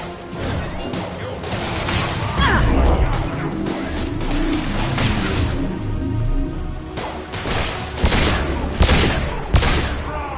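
Grenade blast and rapid gunfire in a PS4 video game, with a dense, sustained battle of repeated shots and bursts throughout, sharp loud impacts near the end.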